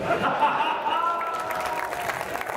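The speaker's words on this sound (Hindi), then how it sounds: "आप लोगों की तालियां उठी" An audience claps at a live Hindi comedy show: a short spell of crowd applause mixed with a voice, fairly soft and steady.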